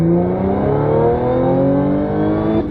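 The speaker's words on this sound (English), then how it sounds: "We might go ahead and hit red line in second gear." Audi S5 B8.5 with a V6 and six-speed manual revs toward redline in second gear, a loud, steady engine note climbing in pitch for nearly three seconds with no talk over it.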